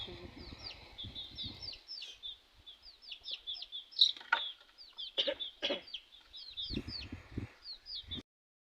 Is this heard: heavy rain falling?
no